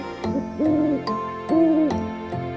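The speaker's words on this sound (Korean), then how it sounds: "부엉 부엉 부엉" An owl hoots in a lullaby setting, two drawn-out, clear hoots in close succession, loud and near, with soft taps and no talking.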